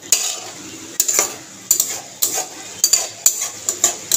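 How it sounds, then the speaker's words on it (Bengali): Food being stirred and sautéed with salt in a frying pan, a spatula scraping and clinking against the pan in repeated strokes over a steady close sizzle. "আর এবার এটাকে আমি নুন দিয়েই কষাচ্ছি"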